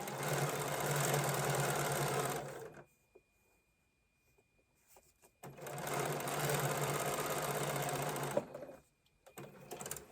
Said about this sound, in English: you hear my sewing machine make a little whining noise. It's old and it whines.